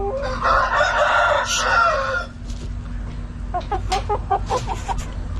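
Young Bangkok chickens cluck and a rooster crows loudly nearby, followed by scattered clucking and short calls over steady background noise.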